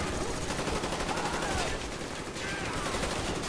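Sustained automatic gunfire in the war game Call of Duty: Black Ops, a continuous dense rattle of shots that holds steadily at moderate level throughout.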